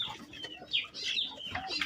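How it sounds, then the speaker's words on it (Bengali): Pigeons kept in a loft give faint, scattered chirps and coos, soft and somewhat distant, with light rustling between calls. "এখানে যে আমার যে গলালাল কবুতর"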